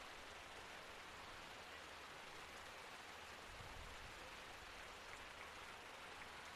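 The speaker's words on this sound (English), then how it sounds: "the rain coming down, probably harder than it has thus far." Heavy rain pours steadily over an outdoor soccer field, a dense, continuous hiss with no breaks, holding at an even level throughout with faint low rumble beneath.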